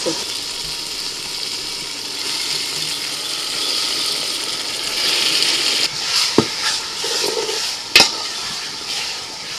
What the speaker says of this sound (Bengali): খানিক্ষণ নাড়াচাড়া করে দিয়েছি